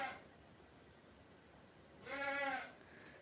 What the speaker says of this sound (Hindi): बकरी बुला रही है जी।